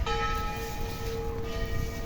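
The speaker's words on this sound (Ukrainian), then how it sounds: "якраз десь в церкві вже дзвін" A church bell rings somewhere in the Barrio de Santa Cruz in Alicante, Spain, sounding as a sustained, resonant tone with lingering overtones over a steady outdoor background, moderately distant.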